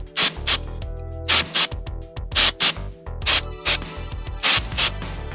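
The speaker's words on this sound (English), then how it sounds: "This is some electronic cleaner here, so just lightly spray it." Repeated short hissing bursts from an aerosol electronic cleaner spray can on a Mazda R100 hazard switch come in quick, uneven succession over a low steady hum.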